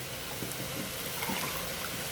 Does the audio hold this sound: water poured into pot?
yes